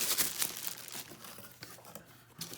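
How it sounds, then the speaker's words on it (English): Plastic bag crinkles and rustles in close, irregular bursts while an Amcrest IP4M-1051B IP camera is taken out of its packaging, quiet and alone. "And it's in a plastic bag. Let's take that out and get a better look at it."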